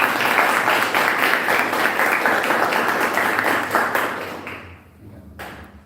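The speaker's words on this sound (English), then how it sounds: "we have a round of applause." An audience applauds at a book presentation for The Rise of the Infrastructure State, with steady, dense clapping that fades over the last second, followed by a few scattered claps.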